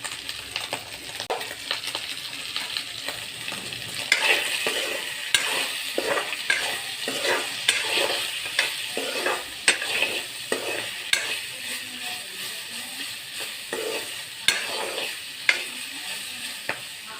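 Pork fries in oil in a pan, stirred steadily, with a constant sizzle and a repeated scraping of the utensil through the whole stretch, loud and close.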